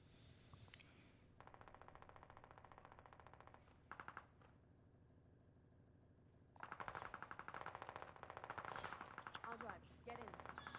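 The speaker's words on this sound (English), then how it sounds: "I'm on the gun." In the Warzone video game, a mounted gun fires in long rapid bursts, loud and close, with a short pause between sustained volleys.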